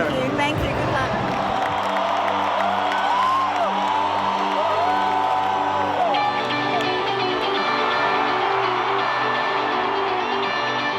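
Large concert crowd cheering and whooping, a loud continuous roar of voices with music and sustained guitar tones ringing through it for the whole stretch.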